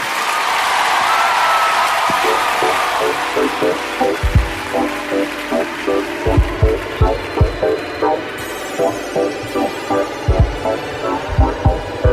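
Studio audience applause at a Star Academy television show rises briefly for about two seconds, then gives way to a pop song with a steady thumping beat that takes over for the rest.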